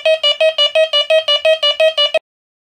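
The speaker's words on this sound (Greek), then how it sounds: "Όταν κάποιο αντικείμενο είναι πάρα πολύ κοντά στο δίσκο, ακούγεται αυτός ο συναγερμός επιφανειακού στόχου" A Quest X10 Pro metal detector sounds its surface-target alarm for an object very close to the coil: about ten rapid, identical electronic beeps in an even rhythm, loud and clear, then silence.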